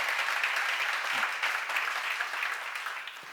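Church congregation applauding at a seminar, a steady wash of clapping that holds through the clip at moderate, slightly distant level, tapering a little at the end.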